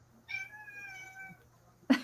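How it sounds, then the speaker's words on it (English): A domestic cat meows indoors, one drawn-out, clear cry lasting about a second, close and moderately loud, followed by a short sharp noise at the end; no talking. "Uh-oh, cats. We got cats in the house."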